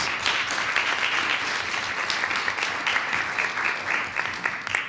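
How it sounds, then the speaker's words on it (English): A steady, dense round of applause fills a school board meeting room, many hands clapping continuously and evenly at moderate loudness. "Give one more round of applause to these two."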